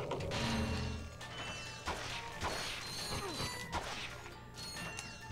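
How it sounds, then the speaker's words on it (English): Wooden crates smash and break apart in the 2002 video game Ratchet and Clank, a run of sharp cracking impacts and clattering debris over game music and mechanical sound effects, with no talking. "destroy these boxes"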